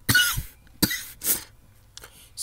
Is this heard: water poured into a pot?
no